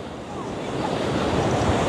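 South Pacific surf rolls in at a river mouth on Tanna Island, Vanuatu, a broad, steady wash of breaking waves mixed with buffeting wind on the microphone, growing slightly louder over a brief moment.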